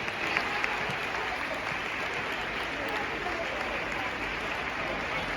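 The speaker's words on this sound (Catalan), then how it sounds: "Un fort aplaudiment." Audience applause at a youth gymnastics competition, a broad steady roar of many hands clapping in a large hall, sustained at even level with some crowd murmur.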